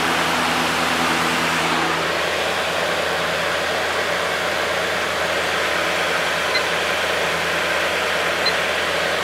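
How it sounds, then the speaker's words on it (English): A vintage Patton electric fan spins at high speed, producing a steady, loud broadband whoosh of rushing air with a low motor hum underneath, unbroken and close throughout. "This one spins really fast."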